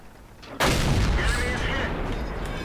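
A single heavy tank cannon shot from a French FCM 50t tank in World of Tanks fires at an enemy Indian Panzer, a sudden loud boom followed by a long rumbling decay.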